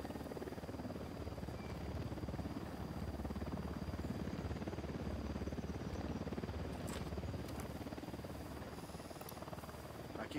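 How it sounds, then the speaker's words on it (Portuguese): A patrol helicopter in Ghost Recon Wildlands thrums with a steady, low rotor chop that is faint and distant but continuous throughout, with a few brief clicks near the end. "Helicóptero da unidade em patrulha."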